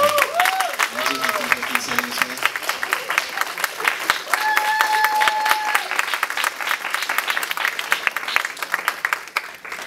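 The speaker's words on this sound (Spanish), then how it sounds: "Otro aplauso, hermanos" Church congregation applause at a youth day service, crisp rhythmic clapping from a crowd with voices and brief cheering or whoops mixed in, continuing steadily throughout.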